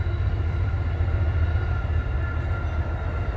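An Amtrak train passes near the Thruway and a canal, a steady low rumble with a constant wash of rolling noise throughout.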